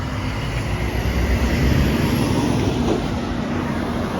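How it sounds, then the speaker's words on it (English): A heavy truck roars past close by on a street in Bennington, New Hampshire, a loud steady rumble of engine and road noise with no talking. "Here comes a noisy truck."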